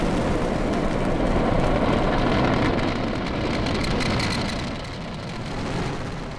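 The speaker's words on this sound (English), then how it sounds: "Liftoff. And Dragon go Falcon. Vehicle is pushing downrange." SpaceX Falcon rocket lifting off on the CRS-17 Dragon cargo mission, a continuous deep thunderous roar filling the whole range, loud and steady with slight surges in intensity throughout.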